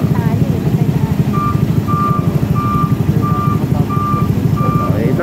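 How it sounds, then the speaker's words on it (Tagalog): A truck arriving at a work site rumbles steadily and close while a regular series of clear reversing beeps sounds over the engine, about six evenly spaced tones. "Uy, meron pa meron pa parating na truck"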